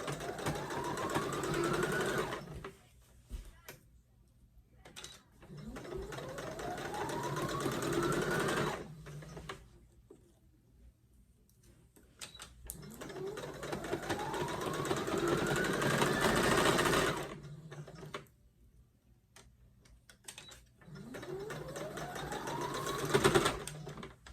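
A sewing machine stitches stretch fabric for a bodysuit, running in several bursts of rapid, even whirring that speed up and stop, with quiet pauses between runs.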